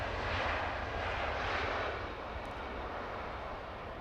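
A jet aircraft roars past at Heathrow Airport, a loud broadband engine rush that peaks early and then slowly fades as the plane moves away.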